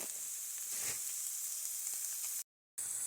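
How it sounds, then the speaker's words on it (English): Bell peppers and still-frozen celery sauté in a hot pan, giving a steady, close hiss and sizzle that continues throughout with a brief dropout near the end. "So I'm letting this saute."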